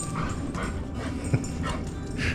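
Dogs whimpering and yipping in short repeated bursts, fairly close, over a low background rumble.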